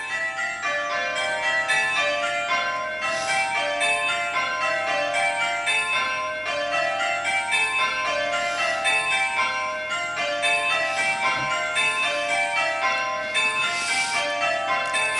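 Five church tower bells ring plain hunt, a steady rolling cascade of clear, overlapping strikes that repeats evenly throughout, resonant and loud with no voices.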